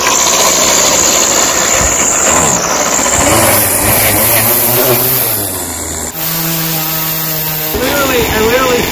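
A two-stroke engine running rich with too much oil fires up after a few rough pulls, then settles into a loud, close, steady buzzing idle with a rising and falling pitch, and a voice is faintly present.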